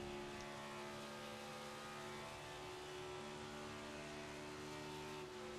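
A NASCAR NextGen race car engine at Kentucky in iRacing drones loud and steady, holding a constant high-revving tone from start to end with no talk over it.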